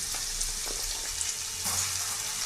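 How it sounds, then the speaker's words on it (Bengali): Chopped onion fries in hot oil with ginger-garlic paste for palak paneer, giving a constant close sizzle broken by a few soft stirring taps, with no voices. "পেঁয়াজ কুচনোটা দিয়ে দিলাম, টমেটোটা একটু পরে দিচ্ছি"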